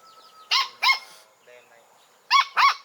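A puppy on a farm gives two pairs of sharp, high yaps with a pause between, close by, with faint birdsong in the background.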